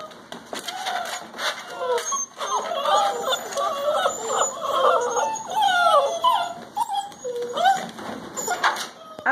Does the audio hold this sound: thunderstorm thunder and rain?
no